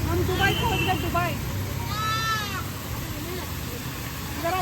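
A goat bleats a few times amid a noisy outdoor crowd at an Independence Day gathering in Kokrajhar, Assam, its wavering cries rising over a steady babble of voices.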